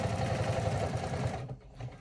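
An embroidery machine rapidly stitches a clear vinyl stadium bag held in the hoop, a steady close mechanical whir and needle patter that briefly drops off and then resumes.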